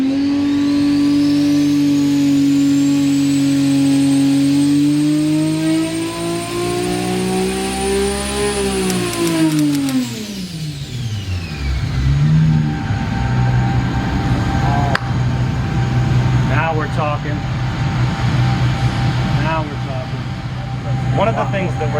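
A 1821-horsepower 3.5L 2JZ engine on a Dart block with a Precision turbo screams under full power, its tone rising steadily before dropping sharply off throttle, followed by rough loud running and turbo whoosh.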